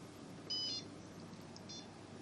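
A homemade alarm system with an ultrasonic sensor gives a short, faint electronic beep when its A key is pressed to arm it, followed by a second softer beep over quiet background hiss.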